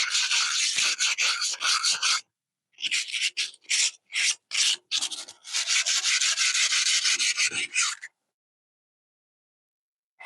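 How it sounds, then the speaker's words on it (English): A metal spindle shaft from a Hustler Z mower is rubbed with sandpaper in quick back-and-forth strokes. The raspy bursts are close and loud, with a short pause partway through and silence at the end. "I just want to polish the shaft up a little bit"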